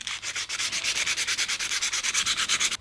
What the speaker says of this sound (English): I'm just going to sand it with a coarse grid